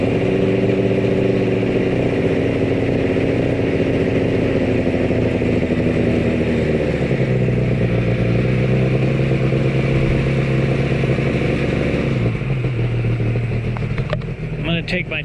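A Yamaha RZ350 two-stroke motorcycle engine idles steadily on premix fuel, a continuous loud, rattly drone with a brief shift in pitch partway through and a sharp clatter near the end.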